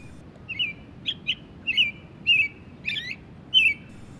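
American robin in a park near Niagara Falls singing short clear whistled phrases, about six or seven bright notes spaced irregularly over a few seconds, close and distinct above faint background hiss.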